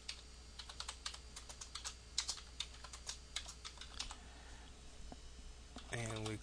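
Quiet, close tapping on a computer keyboard runs in irregular bursts of keystrokes, with a brief clatter of faster keys near the end.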